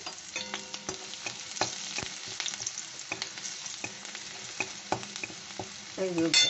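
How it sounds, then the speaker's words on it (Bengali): Chopped garlic, ginger and green chilli frying gently in oil over low heat, a quiet sizzle broken by frequent spatula scrapes and stirring knocks, close by with no voices. "তেলে এবার রসুন কুচি দিয়ে দিচ্ছি, আদা কুচোনো দিয়ে দিচ্ছি, আর লঙ্কা কুচোনো দিয়ে দিচ্ছি।"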